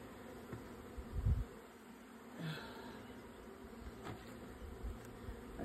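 Honeybees buzzing faintly around an opened beehive during an inspection, a low, diffuse hum with occasional closer passes and light handling bumps, no talking.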